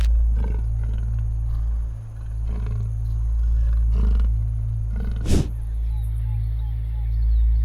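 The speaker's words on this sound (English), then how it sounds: "The calls of the leopard vary and include a series of harsh cough, throaty growls, and deep purring sounds." A leopard gives throaty growls and deep purring rumbles in a low, continuous roar with repeated swells, close and loud, with one sharp burst midway.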